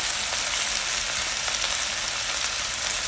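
Chili powder, coriander-cumin and garam masala sizzle in hot oil in a pan for a potato curry, a steady, dense hiss of frying up close with no voices.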